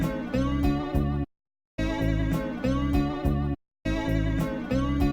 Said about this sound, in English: And the original guitar sample sounds like this.